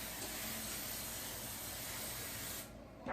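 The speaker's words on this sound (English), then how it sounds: "I'm going to spray the pan" Crisco butter-flavored cooking spray misted from an aerosol can onto a pan, a continuous close hiss lasting nearly three seconds before cutting off, with no talking over it.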